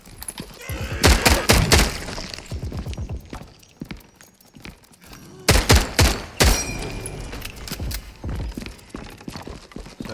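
Rapid bursts of gunfire in the Milo zombies demo video game, loud close volleys of repeated shots in two main clusters with scattered single shots between, no speech over them.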